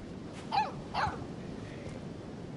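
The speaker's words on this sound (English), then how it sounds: "Do you think it's okay if she wears it? Like, our official guard dog?" Two quick, fairly close dog barks sound about half a second apart in the video game Life is Strange 2, over a quiet ambient background with no talking.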